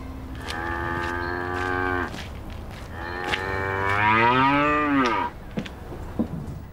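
Cows belonging to an empress low close by: two long, drawn-out moos, the second rising and wavering in pitch, followed by a few faint knocks, with no talking.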